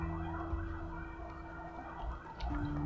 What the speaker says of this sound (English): if you hear sirens, there are like a whole bunch of them